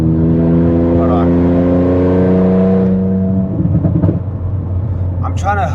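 An Infiniti Q50 Red Sport with full bolt-ons pulls hard, its engine note climbing steadily in pitch for about three seconds before easing off, loud and close from inside, with some talk during the run.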